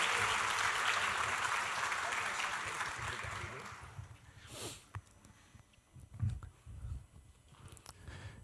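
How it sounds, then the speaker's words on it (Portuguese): A church congregation claps steadily, a dense wash of applause that fades out after a few seconds, leaving scattered movement and a voice beginning to talk. "Vamos dar mais uma salva de palmas a Jesus?"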